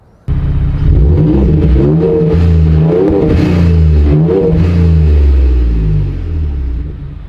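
A Ford F-150 Raptor's V6 engine revs loudly and up close, rising and falling through several throttle blips over a steady rumbling idle, with no talking.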